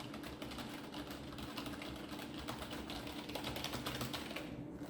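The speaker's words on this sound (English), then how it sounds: "let's try to do the the membrane keyboard sound" Rapid, dense typing on a membrane computer keyboard, a steady stream of soft, muffled keystrokes without sharp clicks, fairly close and continuous throughout, with no talking.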